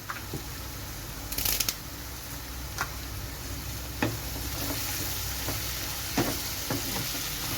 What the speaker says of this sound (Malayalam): ഇനി ഇതെല്ലാം കൂടി നന്നായിട്ടൊന്ന് വഴന്ന് വരുന്നുണ്ട് വരെ നമുക്കൊന്ന് ഇളക്കി കൊടുക്കാം